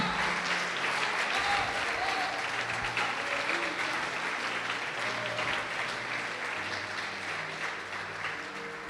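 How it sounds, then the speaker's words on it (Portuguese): Church congregation applauding during a sermon, a steady dense wash of clapping that holds loud throughout with faint crowd murmur beneath. "Pode aplaudir e glorifica o Senhor."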